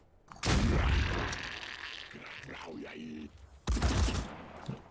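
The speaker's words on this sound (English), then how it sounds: "That was impressive return fire." Gunfire in the tactical strategy game Phoenix Point, heavy loud bursts of automatic fire with booming impacts, a long volley followed by a short pause and a second burst.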